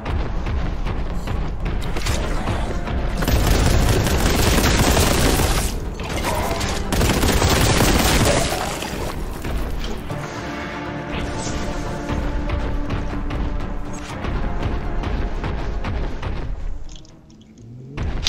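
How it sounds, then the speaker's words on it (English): Crack grenades explode during combat in the first-person shooter Warhammer 40K: Boltgun. Loud booms and thuds pile up with rapid gunfire in a dense, continuous barrage that drops off briefly near the end. "Good old crack grenade."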